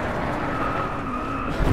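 An Audi R8 V10 Coupe Plus with all-wheel drive racing in DriveClub, its engine holding a steady, loud drone with a faint tire edge throughout, no talk.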